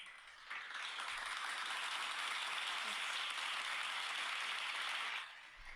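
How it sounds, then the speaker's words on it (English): A studio audience on a talk show applauding, a dense steady wash of clapping that starts abruptly, holds for about five seconds, then stops. "I have to call our audience again. Clap for you."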